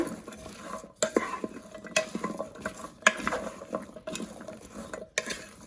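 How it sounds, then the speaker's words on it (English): A spoon stirs celery into chicken soup in a pot, giving repeated scraping and clinking against the pot walls in uneven strokes, close and moderately loud, with brief pauses between bursts and no talking. "I did find a bunch of celery, so let's get that into our soup. Give it a nice stir."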